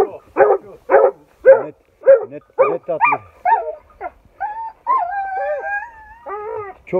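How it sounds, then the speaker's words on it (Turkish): Several dogs bark and yelp in short bursts, close by, with a few higher whining notes toward the end. "Bunlar avcı köpekleri. Bunlar av köpeği."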